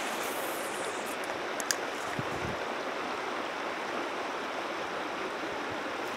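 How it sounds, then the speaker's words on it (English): Fast-flowing creek water rushes in a dense, steady hiss close by, unbroken for several seconds, with a faint tap or two near the start. "Ooh, fast, fast water"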